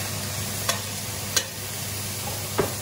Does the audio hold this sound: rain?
no